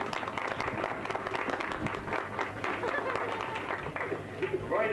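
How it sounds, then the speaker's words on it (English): An audience at a 1980 fall festival in Louisville applauds the outgoing festival queen, a sustained patter of clapping from a crowd at moderate distance, with chatter mixed in. "Let's give Pam a big hand of applause."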